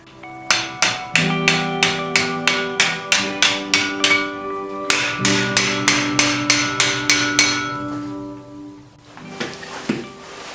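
Repeated hammer blows on metal against an anvil in a shed, a steady run of loud ringing strikes with a short pause midway, then a few scattered lighter taps near the end.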